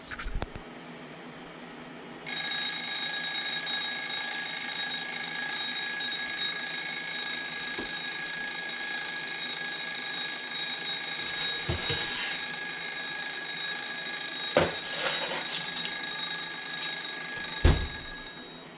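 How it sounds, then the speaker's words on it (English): A kitchen timer alarm rings continuously with a steady high-pitched electronic tone after a brief quiet start, sounding close and loud, with a few soft clatters in the kitchen toward the end. "set the timer to about 15 minutes"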